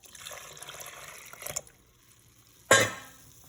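Whisked flour-and-liquid mixture is poured into a cooking pot for Cajun seasoning, a brief, close liquid splash near the end after faint sloshing.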